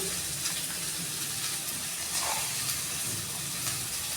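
Poppy seeds fry in a pan with a continuous close sizzling hiss, broad and even, with faint clinks and stirring underneath.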